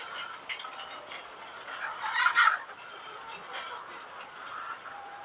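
Chickens on a poultry farm cluck faintly in the distance, a soft scattered chorus with a brief louder burst midway, low and distant throughout.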